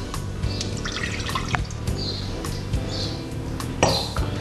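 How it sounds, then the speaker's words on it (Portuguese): Water poured from a cup into a pan while making syrup for ambrosia, a close, splashing pour with bright dripping accents over steady kitchen background noise. "Colocamos a xícara de água"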